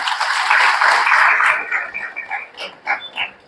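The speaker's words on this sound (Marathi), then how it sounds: "त्या ग्राहकांसाठी एकदा आपण टाळ्या वाजवल्या पाहिजे" An audience at a prize-distribution ceremony for a customer reward scheme in Kopargaon breaks into dense applause that holds for about a second and a half, then thins into scattered, fading claps.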